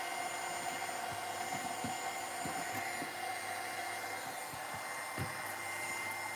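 A hair dryer drying a mixed-media art piece, a steady close whooshing blower hum with a constant tone, joined by occasional soft thumps and knocks from the work table.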